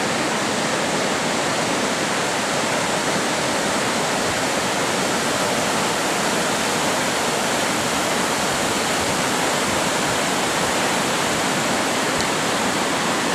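Steady, dense rush of river water at the River Torrens near a narrow gorge, a constant loud broadband roar with no pauses or voices throughout.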